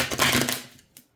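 Tarot cards shuffled by hand in a short, dense burst of papery riffling and slapping that fades out, followed by one faint final tap, close and with no talking.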